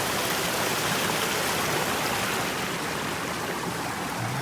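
Diverted drainage water rushing through a channel, a loud continuous broadband wash like a stream or small waterfall, steady throughout and close by.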